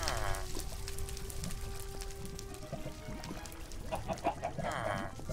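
A chicken in the video game Minecraft, modded Crazy Craft pack, gives a couple of short clucking bursts at the start and again near the end, faint over a busy background of game noise and low rumble.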